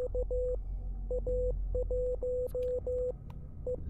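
A clear electronic tone beeps in short and long pulses, spelling out Morse code in a video game, in an uneven on-off rhythm against a low background rumble.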